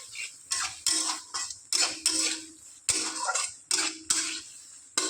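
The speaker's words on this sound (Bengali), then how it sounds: "দিয়ে এইভাবে নেড়ে নেড়ে দিচ্ছি" A spoon stirs a spinach and vegetable curry with prawns in a metal pot, clinking and scraping against the sides in a steady series of distinct strokes, close and clear.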